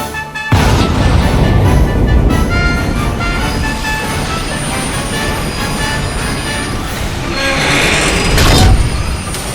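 A Minecraft train rolls in with a loud, steady rumble and clatter of wheels on track that fills the whole stretch, swelling slightly near the end.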